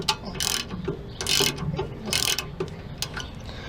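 A tool hammers a stuck brake rotor off a vehicle, several sharp metallic bursts of rapid rattling impacts with short gaps between them, close and loud, with no talking.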